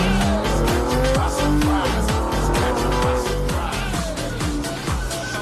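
A video-game Infiniti G35 with a 3.5-litre naturally aspirated V6 roars loud and close, climbing through repeated rising revs and quick shifts while its tires squeal and skid under hard acceleration.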